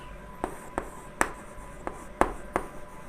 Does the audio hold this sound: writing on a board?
yes